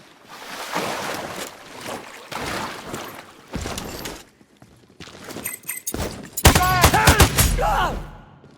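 Gunfire in the video game Sniper Ghost Warrior Contracts 2 rings out in several bursts of loud shots over a background of game ambience, with a heavy volley near the end.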